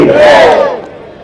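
A crowd at a Hindi political rally shouts a loud, unified chant in response to a slogan. The roar swells for about half a second, then fades away.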